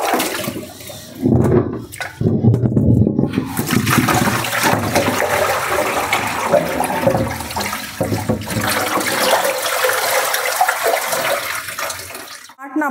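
Water gushes and splashes out of an old clay water pot as it is emptied, a loud continuous rushing pour that runs for several seconds. Someone talks over it.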